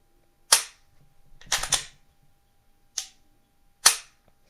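Sharp, close mechanical clicks from dry-firing a Glock 19 Gen 3 pistol and its Turkish clone, four distinct snaps spaced apart, one with a brief rattle just before it, in an otherwise quiet room.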